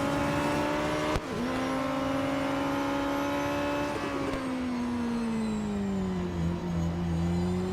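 A Radical SR10 XXR race car in Real Racing 3 holds a loud, steady engine drone, pitch shifting slightly as it accelerates and eases through corners, with a brief click early on.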